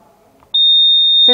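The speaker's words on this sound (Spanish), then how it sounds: "la alarma va a sonar, pero ya no la voy a poder parar, porque es una alarma de seguridad." A piercing, steady high-pitched safe security alarm tone, driven by an Arduino system, suddenly starts and holds loud and unbroken, following a moment of faint background murmur.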